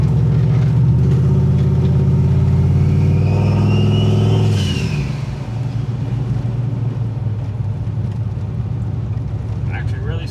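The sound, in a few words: new 6.2 engine car accelerating on first drive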